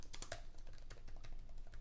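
Fingers typing on the keyboard of a 2022 Lenovo IdeaPad 5i laptop with an Intel 11th Gen processor, a quick run of soft, close key clicks in uneven rhythm, faint and without talking.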